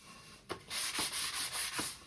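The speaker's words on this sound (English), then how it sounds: "You can sand as far as you want." Hand sanding on a wooden foot stool makes a rhythmic series of close, rasping back-and-forth strokes, about five even passes after a first light scrape.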